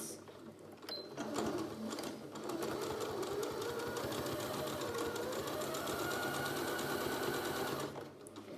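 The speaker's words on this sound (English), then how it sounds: "I'm going to now sew all the way around." A sewing machine stitches around a thick fabric face mask, a close, rapid mechanical chatter running nearly nonstop with a brief pause near the start.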